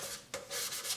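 Short strokes of hand sanding rasp along the grain of a guitar's wooden body near the neck joint, close and soft, with a brief pause between passes.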